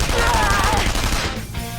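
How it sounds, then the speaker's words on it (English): Rapid, loud automatic gunfire rattles in a Persona 5 Royal boss fight, a dense burst that fades slightly toward the end. "Gunfire!"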